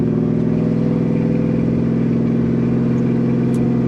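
A 1965 Chevrolet El Camino's engine runs loud and steady under heavy throttle, a dense, throbbing low-mid drone from inside the cab that holds constant throughout.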